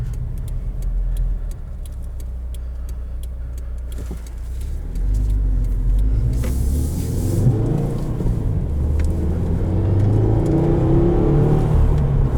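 A 2020 Subaru WRX with a manual gearbox drives along, its engine rumbling and rising as it accelerates, with steady road and tyre noise throughout and no talking.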